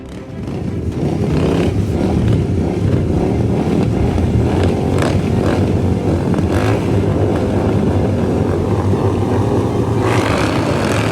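Simulated GT Cup race cars drive past with a loud, continuous engine drone and revving. The roar stays close and sustained throughout, with no voices.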